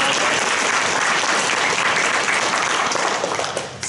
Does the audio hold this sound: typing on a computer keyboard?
no